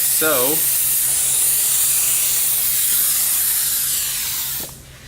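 Hydrographic activator is sprayed onto a part in one pass before dipping it in carbon-fibre film, making a loud, steady hiss that holds for about four and a half seconds and then cuts off.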